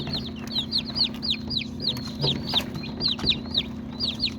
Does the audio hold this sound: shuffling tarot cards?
no